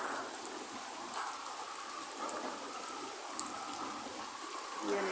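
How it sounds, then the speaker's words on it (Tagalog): Steady heavy rain from a typhoon hisses down continuously, with a few sharper drips and splashes standing out now and then. "Yan po, nakalalakas po ng ulan."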